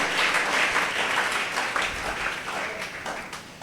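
Applause from a church congregation at a Sunday evangelical service, a steady dense wash of clapping that holds at an even level throughout without any talk over it.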